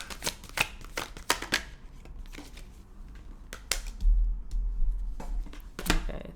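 Tarot cards are shuffled up close in quick, crisp riffles and flutters, arriving in bursts with short pauses and soft taps between them, with no talk.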